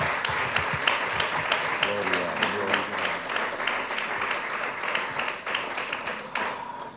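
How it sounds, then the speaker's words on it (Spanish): A church congregation claps steadily together in a broad, continuous wave of applause, with a voice calling out briefly over it before the clapping thins toward the end. "Denle un aplauso al Señor."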